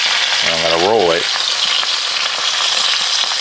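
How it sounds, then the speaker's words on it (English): Trout frying in lard in a skillet, a steady close sizzle running throughout with a brief tonal hum partway through. "Now I'm frying those in animal fat, that's lard that we're going in that with."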